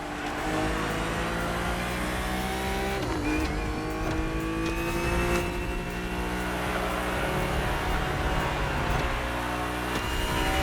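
A BMW race car's engine roars in The Crew Motorfest racing game, a loud sustained drone that shifts pitch through gear changes and revs, with a brief dip near the start and no talking.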